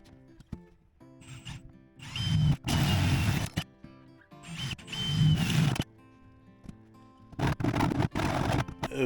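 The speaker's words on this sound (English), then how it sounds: "applied that to the holes that I was drilling above the sink" A power drill bores holes into a camper cabinet above the sink: three separate close bursts of whirring and grinding, each a second or so long, with quiet handling noises between them.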